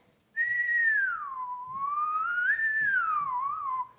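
A single person whistles a clear, wavering melody for about three and a half seconds, starting abruptly and sliding smoothly up and down in pitch, close and loud against a quiet background.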